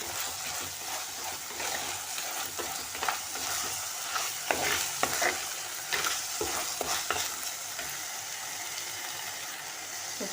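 Onion and tomato fry together in a pan with a steady, close sizzle. A spoon stirs and taps the pan again and again through the hiss, and no voice is heard.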